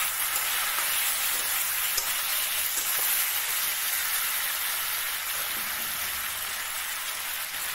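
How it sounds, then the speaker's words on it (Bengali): Ground turmeric, cumin and other spices frying in a pan while being stirred, a constant bright hiss of sizzling oil, close and even for the whole stretch, with no talking. "তো চলো কিছুক্ষণ নাড়াচাড়া করে নিই"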